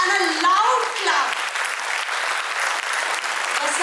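An audience at a memorial lecture gives loud, sustained applause, a dense wash of clapping from many hands that holds steady for several seconds and gradually thins slightly.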